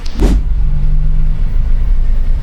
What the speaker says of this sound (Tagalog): Tukod na naman tayo sa traffic mga tropa.